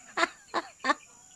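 A chicken clucks three times in short, evenly spaced bursts, close and clear, on a rural Philippine farm with no talking.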